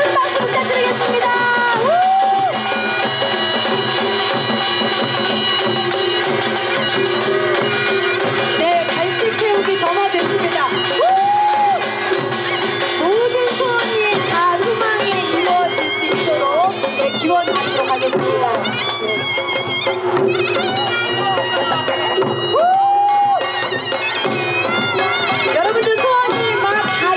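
Festival crowd at a traditional Korean Jeongwol Daeboreum full-moon event in Namsangol, with loud continuous hubbub, cheering and clapping under amplified music and an announcer speaking.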